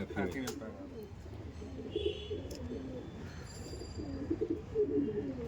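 A female pigeon held in the hand at a pigeon loft in Behala gives soft, repeated throaty coos, quiet and close, over a low background murmur of voices.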